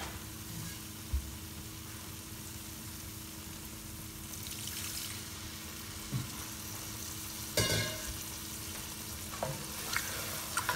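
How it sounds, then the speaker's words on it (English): Curry powder for a vegetable korma cooking in a pan with a little water, a quiet steady sizzle and bubbling with occasional soft clinks of a utensil stirring against the pan. "So always cook your curry powder well. Add a little water to it."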